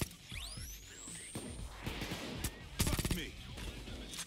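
Gunfire in a heist video game with police attackers, rapid bursts of shots clustered in the middle and a sharp whooshing sweep early on, with a man swearing loudly over the action.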